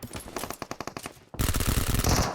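Rapid automatic gunfire in the PUBG Mobile battle royale game, a stuttering burst of shots that pauses briefly, then a louder, denser volley of continuous fire up close.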